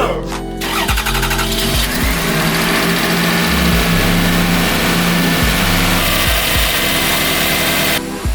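A car engine being worked back together after repairs cranks and catches, then runs loud and steady at idle with a few rises in revs, close by and continuous for most of the stretch.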